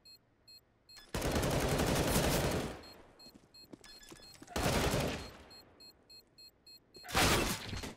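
Bursts of automatic gunfire in a competitive shooter video game, three loud volleys with beeps and shorter shots between them, standing alone without talk.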